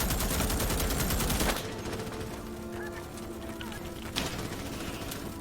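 A mounted gun turret in Starship Troopers: Extermination fires a loud, rapid burst for about a second and a half, then stops, leaving busy battle ambience and one sharp later shot.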